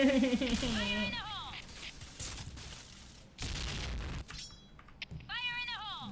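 A deep, booming grenade blast from a video game erupts amid gunfire and electronic game effects.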